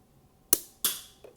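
Small Lego model gun fires two sharp snapping shots about a third of a second apart, each with a quick decaying burst, followed by a fainter click; close and otherwise quiet.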